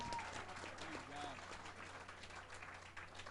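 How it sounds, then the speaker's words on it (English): A live concert audience at a 1995 collectors show applauds a doo-wop band, a dense wash of clapping mixed with crowd noise and voices, steady throughout. "give the band a great big round of applause"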